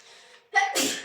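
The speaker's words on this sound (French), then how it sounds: "À tes souhaits." A single close, loud sneeze bursts out after a quieter stretch of background sound, with a sharp inhale-like onset and a broad, noisy explosive release.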